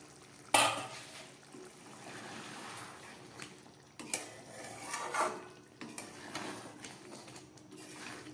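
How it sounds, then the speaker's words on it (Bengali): Lid lifted off a pot of simmering potato and pointed gourd curry, a sharp metallic clank at the start followed by soft clinks and faint bubbling in a quiet kitchen. "এবার ঢাকাটা খুলছি।"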